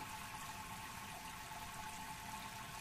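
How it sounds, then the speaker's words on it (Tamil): A tap runs steadily as water is filled into a container, a soft continuous rushing flow heard close and alone. "தண்ணி பிடிக்கிறேன் டி."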